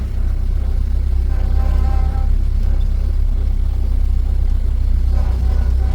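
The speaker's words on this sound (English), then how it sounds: "First time driving the Huckster in town for the very first time." A restored 1930 Ford Model A Woody Huckster drives through a historic downtown, its steady low engine rumble continuous and fairly close, with faint passing street sounds.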